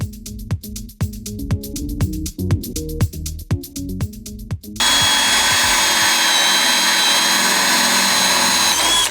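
A power drill bores the first hole into a skoolie bus roof during solar panel installation, with short clicking, revving bursts giving way to a sustained loud whine, and strong wind noise throughout.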